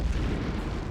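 A loud, close grenade blast in Medal of Honor (1999), one deep booming explosion whose rumble fills the whole second.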